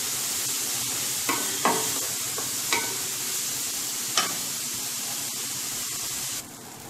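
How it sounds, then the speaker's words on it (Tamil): Red flattened rice (poha) being sautéed in ghee for payasam: a soft, steady sizzle with a few sharp scrapes and stirring taps of the spoon against the pan, fairly quiet and close with no talking. "சிகப்பு அவலை வந்து இதில் கொட்டிட்டு நல்லா கொஞ்சம் வதக்கிக்கலாம்."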